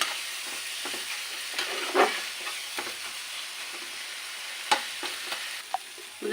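Chicken roast masala frying quietly in a pan, a soft steady sizzle broken by a few scraping stirs of a spoon against the metal.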